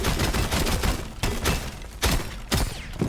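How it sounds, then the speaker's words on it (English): Dense gunfire and explosions in Rainbow Six Siege, a continuous loud barrage of rapid shots with several heavy booming blasts near 1.2, 2.0 and 2.5 seconds, no voices. "that's a bunch of gunfire and explosions going around"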